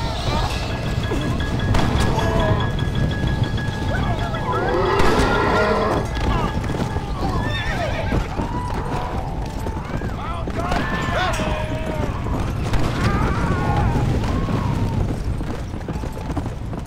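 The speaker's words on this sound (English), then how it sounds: "we're just gonna run through with our horse" Galloping horse hooves in Red Dead Redemption, a rapid clip-clop under loud speech and other game noise, with occasional crashes throughout.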